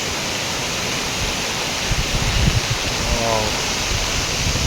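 A waterfall near Shri Narayani Dham in Lonavala rushes in heavy rain, a steady, dense roar of falling water that fills the scene, with faint indistinct voices briefly underneath.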